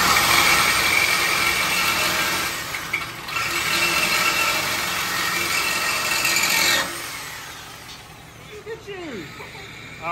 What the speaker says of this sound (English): She's about to learn how to run a sawzall.